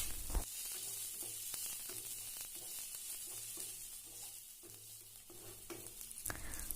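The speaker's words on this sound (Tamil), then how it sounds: "வெங்காயத்தை நல்லா வதக்கி விட்டுறலாம்." Onions and a sprig of curry leaves sautéing in a pan for okra fry, a quiet steady sizzle broken by soft rhythmic stirring scrapes, with no talk.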